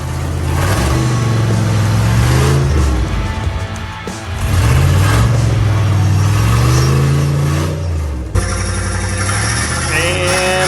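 A Jeep's engine roars and revs hard while stuck on an off-road park obstacle, loud and close, dipping briefly before climbing again, with mechanical strain and a little wind noise throughout.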